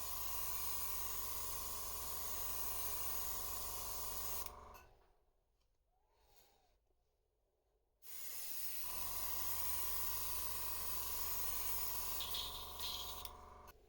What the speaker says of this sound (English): the next step is clamping on a fine mesh to spray on the scales